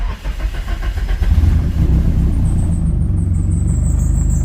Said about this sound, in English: let's turn the car on.